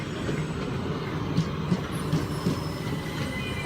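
Train 303 204 pulls out of Hampden Park station on a Southern service to Eastbourne, with a steady rumbling roll, soft wheel clicks and a faint high squeal under it, heard at moderate distance.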